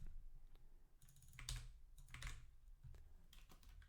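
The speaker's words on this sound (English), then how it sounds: "So let me type this out." Someone types on a computer keyboard, a faint, close run of soft key clicks in short irregular bursts with no talking.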